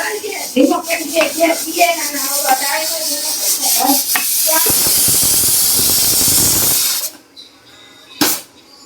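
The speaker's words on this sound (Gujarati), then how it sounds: "અહીંયા જુઓ કુકરની સીટી થવા માંડી છે" A pressure cooker on a home kitchen stove vents steam through its whistle: a loud, steady rushing hiss that comes in after a stretch of nearby talking, holds for a few seconds, then cuts off abruptly.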